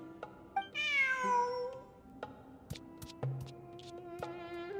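A cat meows in the video game Genshin Impact. One clear, drawn-out meow comes early against a soft game-music background, and a fainter meow follows near the end.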